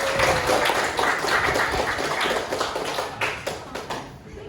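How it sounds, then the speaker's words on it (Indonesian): A classroom group claps for group 4 during a school counseling session, a brief patter of hands that thins and fades toward the end. "Kasih tepuk tangan dong buat 4."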